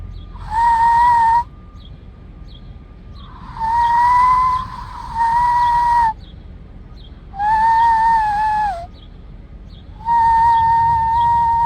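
Loud fingerless whistles made with the mouth alone ring out in four separate sustained blasts, each clear and piercing and lasting about a second or more, with short pauses between and nobody talking.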